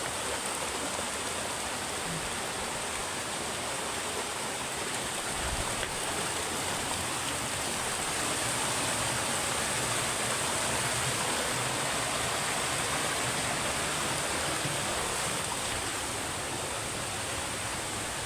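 A waterfall swollen by heavy rain roars as a dense, unbroken wash of rushing water on a mountain trail, steady and fairly distant-sounding, with no voices over it.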